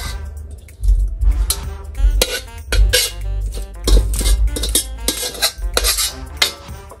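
Spoons and metal utensils clink and scrape against dishes and pots while adobo is moved into a serving dish, a run of irregular sharp clatters and knocks with short pauses between them.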